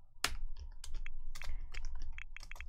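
Rapid typing on a computer keyboard, a steady run of sharp close clicks and key taps over about three seconds, with no talk.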